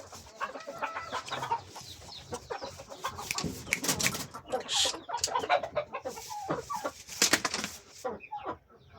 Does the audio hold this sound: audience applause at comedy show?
no